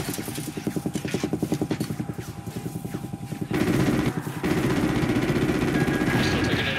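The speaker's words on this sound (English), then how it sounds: "We're still taking enemy AA fire from behind the smokestacks" Enemy anti-aircraft guns firing in Call of Duty: Ghosts, rapid bursts of machine-gun fire that give way to a louder, denser sustained barrage partway through.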